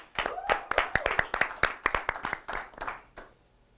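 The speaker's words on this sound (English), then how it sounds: "Please give a big round of applause" A small audience clapping at a youth performance in a playhouse, a quick, uneven burst of hand claps that thins out and fades to silence within a few seconds.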